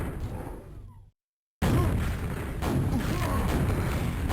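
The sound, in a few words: rocket jump explosion in Quakeworld video game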